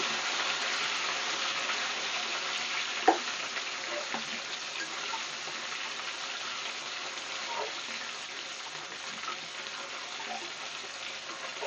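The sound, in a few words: tomato added to golden-fried onions, frying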